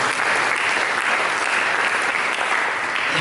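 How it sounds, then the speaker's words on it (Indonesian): A church congregation at a Christmas service claps in warm, sustained applause, a thick even wash of many hands that holds steady from start to finish with no voices on top. "Mari kita berikan tepuk tangan yang meriah"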